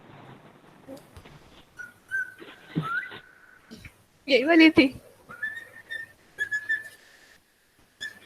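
Whistles played back from a phone status recording come as thin tonal notes, some sustained and some rising, interrupted by a burst of louder mixed sound midway, with a brief spoken voice nearby.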